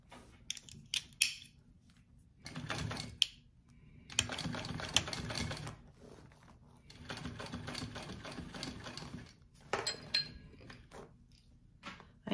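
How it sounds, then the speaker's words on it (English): A sewing machine top stitches along the seam of a vinyl hobo bag in several short bursts of close, rapid clatter, separated by pauses with small handling clicks. "I am gonna do two rows of top stitch along the top"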